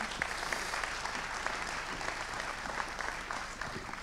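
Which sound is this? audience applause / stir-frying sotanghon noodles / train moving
audience applause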